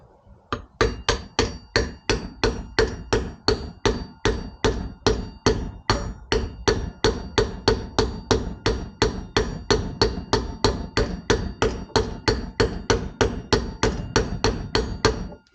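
A hammer strikes a socket to seat a wheel bearing race on a Suzuki SV650 wheel, about forty sharp metallic blows in a steady, fast rhythm, loud and close with no talking.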